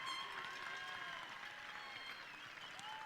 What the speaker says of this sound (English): Okay, parents, you can clap now.